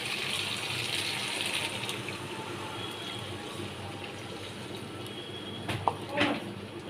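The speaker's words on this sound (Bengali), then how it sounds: "এর মধ্যে একটু জল দিয়ে দেব।" Water is poured into a pan of rohu fish curry with potatoes and green chilli, a steady gushing pour that runs throughout, ending with a couple of brief splashy clinks.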